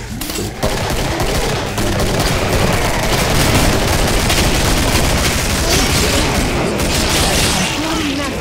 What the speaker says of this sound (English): using a machine gun.